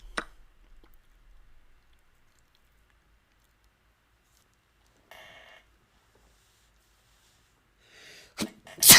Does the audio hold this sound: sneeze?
yes